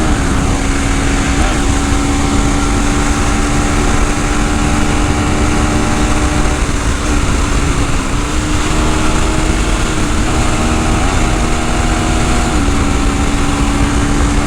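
A KTM 390 Enduro R single-cylinder motorcycle gives a loud, steady engine drone while being ridden fast on the highway, with the pitch shifting slightly as it changes speed and heavy wind rush underneath.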